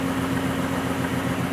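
A small electric driver motor on a free energy test rig whirs steadily at high speed, a continuous dense hum with a strong tonal whine, close and loud, with no voices.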